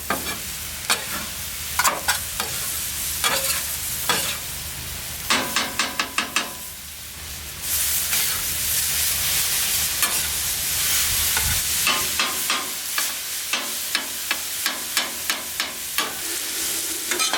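Chicken seasoned with lime, jalapeño and salt browns on a flat griddle, a steady loud sizzle broken by repeated sharp scrapes and taps of a spatula against the metal surface, no voices.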